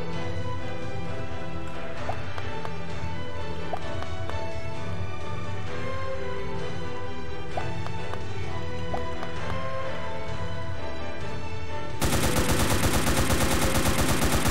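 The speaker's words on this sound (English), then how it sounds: "I got a machine gun" Machine gun fire in the game Zombie Survival Tycoon, a long stream of rapid clattering shots over game sounds and music, ending in a sudden harsh burst of loud noise.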